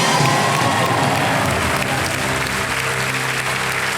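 A studio audience on the Kaun Banega Crorepati quiz show breaks into loud, sustained applause, a dense continuous wash of many clapping hands with faint crowd voices underneath.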